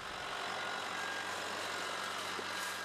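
A 100 horsepower tractor pulling a six-row, 4.5 m wide row-crop hoe, its engine giving a steady low idling drone, continuous and moderately loud with no voices.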